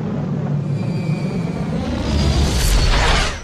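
A Tesla Model 3 Performance accelerating hard from a standstill: a loud, continuous rush of wind and road rumble with a thin electric-motor whine rising in pitch, building louder toward the end.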